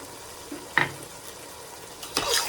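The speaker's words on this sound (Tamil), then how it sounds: "அப்புறம் நான் அரைச்சி வச்சிருந்த மசாலாவும் சேர்த்துக்கிறேன், பிரியாணி மசாலா" Ground biryani masala is stirred into a frying pot in a Lucknowi biryani, with a soft background sizzle and two brief, close scraping stirs.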